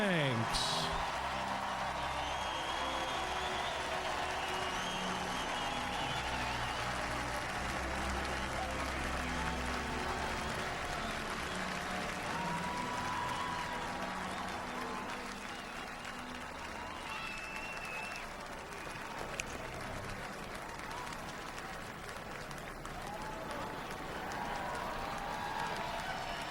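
A crowd at a baseball game welcomes Ernie Banks, Mr. Cub, with sustained applause and cheering that fills the ballpark, fades slightly partway through and then swells again, while an announcer's voice carries over the noise.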